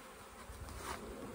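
Honeybees buzz steadily and fairly close around an open hive during a queen check on an excluder boost, a dense, continuous drone with no talking.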